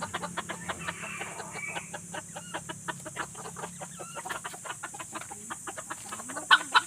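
Small chickens, including a Talisayin, cluck repeatedly in a steady pattern of short, soft calls nearby, with a sharper squawk near the end.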